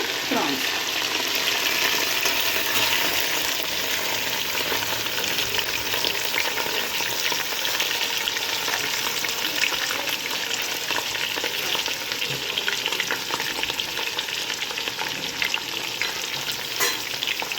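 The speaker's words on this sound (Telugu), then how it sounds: "వీటిని కొంచెం వేయించుకున్నాము." Marinated prawns fry in a pan with a loud, steady sizzle and crackle that fills the whole stretch, with occasional stirring scrapes and no pause.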